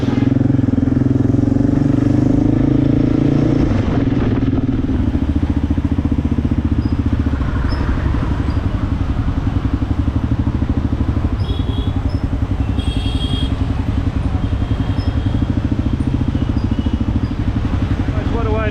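A Kawasaki KLR650 motorcycle riding along a road in India, its steady engine drone and wind rumble loud and continuous throughout, with faint clatter and passing traffic in the background.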